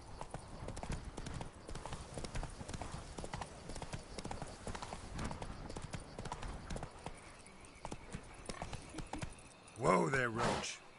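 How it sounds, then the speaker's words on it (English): Horse hooves clip-clop at a steady walking rhythm in the Fallout 4 video game, continuous and fairly close under game sounds and talk, with a louder burst near the end. "Whoa there, Roach."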